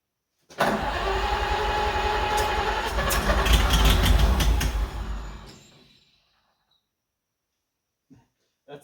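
An Oliver 70 tractor engine, manually choked on its first start in 12 years, cranks and turns over loudly and continuously for about five seconds with a rough, churning rhythm, then stops and leaves near silence.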